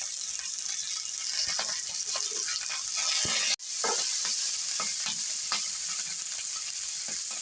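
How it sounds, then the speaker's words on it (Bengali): Chopped capsicum and onion fry in a hot pan, giving a steady loud sizzle with stirring scrapes throughout and one brief abrupt dip midway. "ক্যাপসিকামটা একটু ভেজে নেব"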